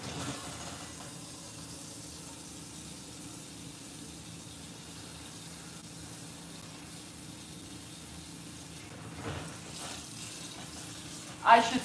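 Tap water running into a cooking pot in a home kitchen, a steady, fairly quiet stream lasting several seconds with a brief clatter at the end.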